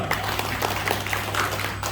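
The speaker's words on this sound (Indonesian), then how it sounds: "Tepuk tangan dong buat berdua" An audience at a business seminar applauds in a continuous, busy patter of clapping over a steady low hum, fairly loud and with no pauses.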